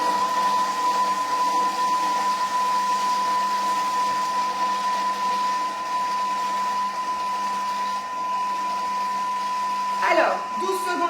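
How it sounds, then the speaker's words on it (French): A Thermomix blends mayonnaise and cheese at speed 5, giving a steady, even motor whine with a fixed pitch that holds for the whole stretch. A brief clatter comes near the end. "on va aller mélanger donc ma mayonnaise avec mon fromage"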